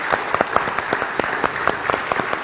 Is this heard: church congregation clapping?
yes